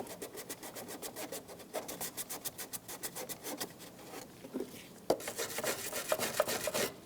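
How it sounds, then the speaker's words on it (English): Emery cloth rubs back and forth on the battery terminal area of a 2003-2007 Honda Accord, making quick rhythmic rasping strokes, close and fairly quiet, that speed up in a dense burst toward the end. "I'm going to use a little emery cloth or sandpaper to do the same thing."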